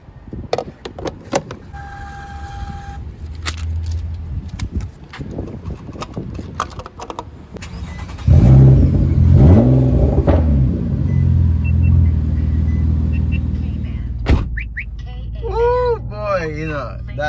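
A Nissan Maxima starts up and its engine revs, a deep rumble that rises and falls after a few clicks and knocks, with people talking close by before and after.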